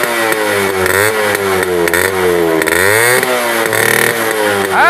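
A motorcycle engine runs loudly and close by, its pitch rising and falling as it is revved several times over a steady idle, with no voices.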